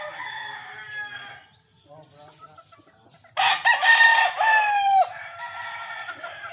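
Several fighting roosters crow loudly at close range, one long crow rising and falling, with softer clucking and calls from other birds between crows.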